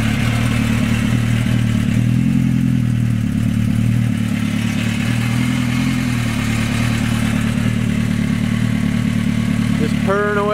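A homemade side-by-side off-road vehicle's engine idles close by with a steady rumble, its low throb continuous and unchanging throughout.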